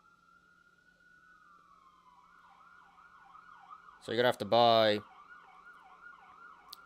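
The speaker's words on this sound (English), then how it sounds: "now here comes the ambulance" An ambulance siren wails faintly in the distance with a steady, rising and wavering tone, briefly interrupted by someone talking close by.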